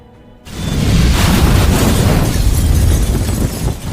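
Elevator exploding inside a burning skyscraper in a disaster film, a sudden loud blast after a brief quiet moment, then a sustained roaring rumble of fire and debris that fills the rest.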